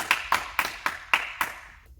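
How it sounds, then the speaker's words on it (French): Young kindergarten children clap their hands together in unison, six evenly spaced loud claps close by, then a stop with no talking. "on peut s'applaudir tous très fort"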